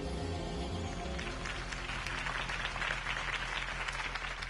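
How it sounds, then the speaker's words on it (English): A crowd applauds a speech in a Batman video game, steady dense clapping that builds slightly over a few seconds, with faint music or murmur underneath. "could have heard that applause"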